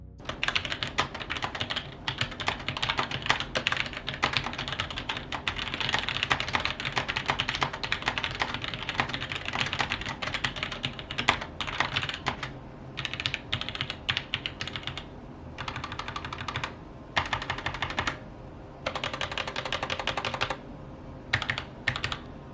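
Rapid typing on a Roccat Vulcan 121 mechanical gaming keyboard with tactile switches, crisp, clicky keystrokes in steady bursts, broken by a few brief pauses, close and fairly loud with no talking.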